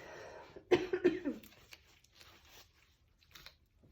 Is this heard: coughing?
yes